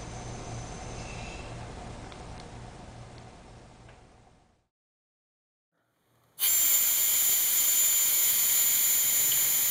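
Compressed air hissing while a PCP air gun is filled: a steady broadband hiss fades out, breaks off into silence, then returns as a loud, bright, continuous rush of air.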